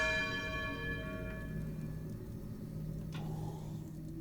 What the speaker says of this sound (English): every time the bells go, they wake me up, which is the whole point